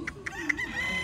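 Roosters at a gamecock farm give a few short, sharp clucks in quick succession. A faint higher tone follows. The sounds are brief and medium-near.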